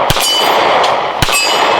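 Canik MC9 pistol rounds striking a steel target, giving two sharp metallic clangs with ringing decay, spaced about a second apart, loud and close with no talk.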